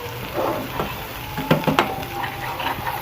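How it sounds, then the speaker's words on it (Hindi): Masala spices of chilli, salt and dried coriander frying in a pan for egg korma, a steady soft sizzle broken by a few sharp scraping stirs near the middle. "तो इसको भी हमने भूनना है तकरीबन 5 मिनट तक।"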